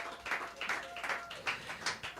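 Audience at a poetry gathering claps in a steady, fairly quick rhythm, the claps soft and slightly distant, a small crowd rather than a large hall, with a faint voice low in the background.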